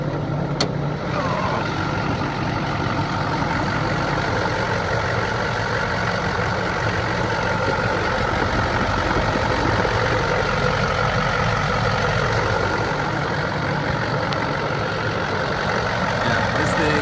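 A 2004 Chevy Duramax diesel pickup idling with the hood open, giving a steady, continuous rumble close by with no obvious revving or breaks for the full length.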